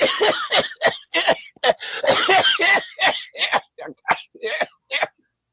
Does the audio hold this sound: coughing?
yes